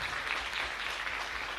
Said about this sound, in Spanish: un fuerte aplauso para nuestra comunidad